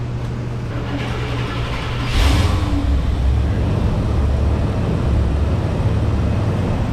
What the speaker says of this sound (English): Let's cold start it.